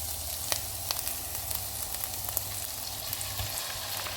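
Chicken frying in a pan for a Georgian chkmeruli dish, a steady close sizzle with scattered crackles and pops, no voices.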